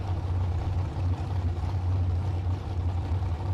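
Dragsters, one green with a blower, rumble as a steady, loud, low engine drone at a drag racing bracket event, held without a break and with no speech over it.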